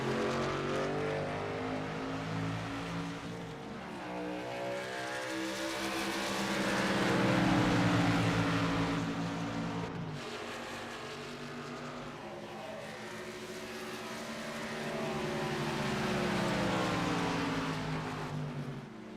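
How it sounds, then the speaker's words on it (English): Racing trucks in a Wild West Racing League truck series roar around a racetrack, engines droning loud and steady with rising and falling pitch as they pass and accelerate, no talk heard. "Will Moore and Russ Marciniak having a moment going off the racetrack"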